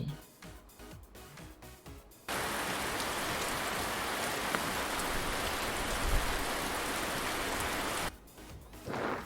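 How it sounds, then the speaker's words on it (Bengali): Steady rain falls in a broad, even hiss for most of the stretch, loud and close, framed by short quieter sections at the start and end that carry faint other sounds. "ছাতা মাথায় বৃষ্টি পড়ে"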